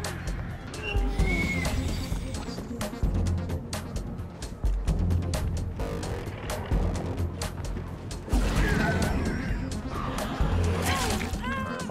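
Crows cawing and fluttering in the Dead by Daylight video game, scattered calls rising over a dense bed of game effects and mechanical clatter, with a player talking throughout.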